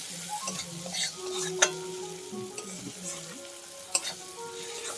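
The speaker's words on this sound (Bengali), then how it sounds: "এইরকম করে চিংড়ি মাছটাকে পাক দিয়ে নিতে হবে বা এরকম করে মাছটাকে কষিয়ে নিতে হবে" Prawns being stir-fried in a pan, a soft sizzle under irregular spatula scrapes and stirs, with a couple of sharper clinks against the pan, close and moderately quiet, no voices.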